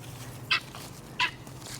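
Two brief, faint bird calls from fowl being herded toward their run, spaced about 0.7 seconds apart over a low outdoor background hum.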